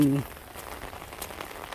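A short burst of speech gives way to soft, steady rain falling at noon over rice fields, a faint patter with occasional distinct drops.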